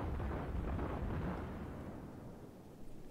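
Heavy naval gunfire from a St. Louis cruiser in World of Warships rolls as a dense, booming rumble that slowly decays, loud and without any talk.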